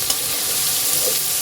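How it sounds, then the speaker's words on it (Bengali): Garlic frying in hot oil in a pan for a fish curry, a steady close broadband sizzle with light stirring, no talk. "রসুন দিছিলাম না, এটা তো ভাজা ভাজা হয়ে গেছে"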